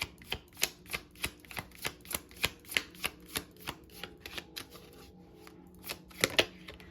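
Tarot cards being shuffled and drawn, a close run of crisp papery slaps repeating in a steady rhythm at roughly three per second, then pausing and ending in a couple of louder riffles.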